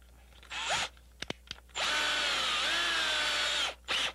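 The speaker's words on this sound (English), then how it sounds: "This is a keyless one, so all you have to do is grab that little rubber grip and spin her." A power drill spins its keyless chuck: two short whirring bursts and a few clicks, then a sustained two-second whine that stops and briefly revs again, close and clear.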